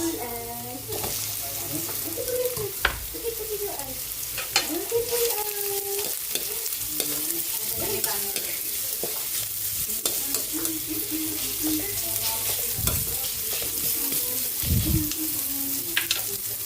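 Onions sizzle and fry in a pan while being stirred, a steady close hiss broken by repeated scraping and clattering strokes of a utensil, with a voice speaking over the cooking.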